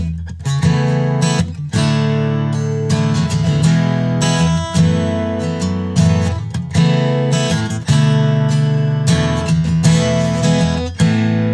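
Acoustic guitar strums a chord progression from A to D2, with the third voiced in the bass to lead into the D2; full, ringing chords sound steadily and close, with no voice.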